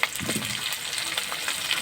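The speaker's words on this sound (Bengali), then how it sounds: "ফুলকপিগুলো দিয়ে ভাজা করতে হবে।" Diced, washed cauliflower pieces frying in a pan for a chicken and cauliflower curry, giving a steady, close hiss and sizzle throughout with light stirring and no talk.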